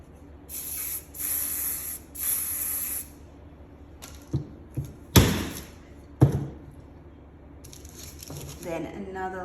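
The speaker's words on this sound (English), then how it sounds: "Then spraying." Three short hissing spray bursts in quick succession, close by, followed by a few soft thumps and rustles.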